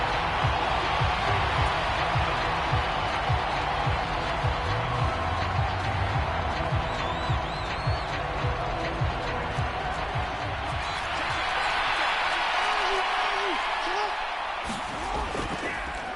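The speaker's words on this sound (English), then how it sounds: "Plenty of shouts from this crowd as they watch the replay" A stadium crowd in a football video game roars and shouts steadily beneath a commentator's voice, with scattered thumps and a swell of cheering near the end.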